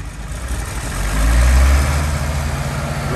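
Engine of a 1978 International LoadStar 1850 grain truck running close by, a heavy low rumble that rises briefly in the middle as it revs, then settles back to a steady drone.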